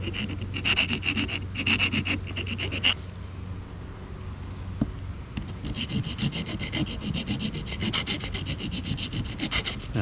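Steady rasping and filing strokes work a lightweight aluminum body mount on a Redcat Kaiju RC truck, rounding it off in repeated close rubbing passes, fairly quiet with no talk.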